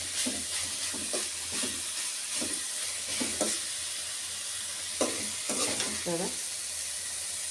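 Paneer, peas and spinach frying in hot oil for a curry, a steady close sizzle with repeated stirring scrapes, with a few brief words spoken over it.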